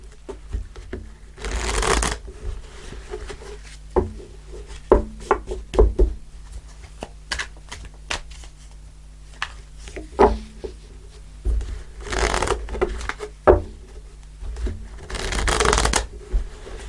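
Tarot cards shuffled by hand nearby, with three bursts of riffling plus scattered taps, slaps and card-handling clicks in between, with no talking.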